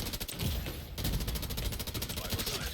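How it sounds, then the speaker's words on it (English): Sustained automatic gunfire from a machine gun in The Division 2 during a daylight control point liberation, dense rapid bursts running continuously at steady loudness with a brief dip partway through. "Switching to the machine gun."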